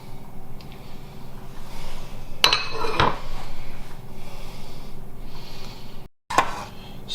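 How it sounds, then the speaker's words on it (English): Two eggs are beaten with banana milk in a kitchen bowl, giving soft scraping and a few sharp clinks of utensil on bowl, close and fairly quiet, with no talking. "what I'm doing now is beating the 2 eggs up with the banana milk mixed together"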